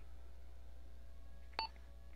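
A single short electronic alarm beep from the video game Arma 3, heard once in a quiet stretch of game audio with steady low hum beneath.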